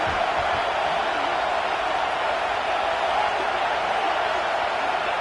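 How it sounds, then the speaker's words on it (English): Stadium crowd noise in the College Football 26 video game: a steady, dense roar from a large cheering crowd, loud and unbroken throughout. "This crowd looking for a big 4th down stop"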